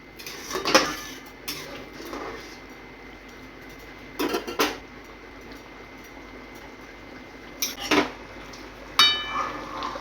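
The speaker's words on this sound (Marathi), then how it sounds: "आता मिक्स करून घेऊया आता फक्त एक मिनिटभर शिजवून घ्यायचं" Spoon scraping and clinking against a pan while potato curry with chopped coriander is stirred, a few distinct metallic knocks spaced over a low, steady background hiss.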